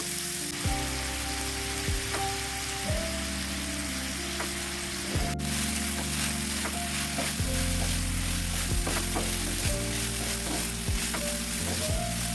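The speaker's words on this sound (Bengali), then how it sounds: "তেল গরম হয়ে গেছে, এবার চিংড়ি মাছগুলো দিয়ে দিলাম ভাজার জন্য" Prawns fry in hot mustard oil in a pan with a constant, fairly soft sizzle and spatter, while tonal background music plays underneath.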